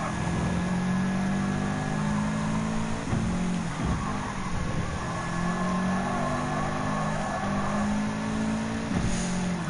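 Race car engines drone steadily in Gran Turismo 7, a Honda NSX Group 4 and a Toyota GR Supra GT4 race car 2019 on hard and medium tires, with sustained revving and pitch shifts through the whole stretch.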